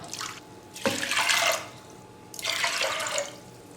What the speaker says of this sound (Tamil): ஒரு கப்பு உளுத்தம் பருப்புக்கு ரெண்டு கப்பு தண்ணி சேர்த்துக்கிறேன்